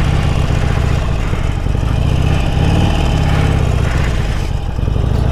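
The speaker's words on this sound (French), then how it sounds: "Ceci est une Harley Davidson 1200 Roadster." A Harley Davidson 1200 Roadster motorcycle engine runs loud and close, a constant deep rumbling throb with a steady pulsing beat and little change throughout.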